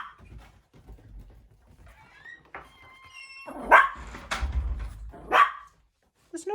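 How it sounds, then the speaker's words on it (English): A dog barks indoors in a few sharp, separate bursts, loud and close after a quieter stretch with faint background sounds. "What are you barking at?"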